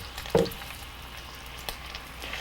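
Turkey cutlet laid into hot oil in a pan, giving a soft, steady crackling sizzle with a brief knock as it goes down, quiet and close.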